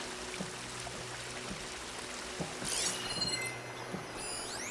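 Water flowing through a damaged pipe system in the video game Horizon Forbidden West, a soft steady stream with faint drips, heard quietly alongside light game ambience and a brief chime.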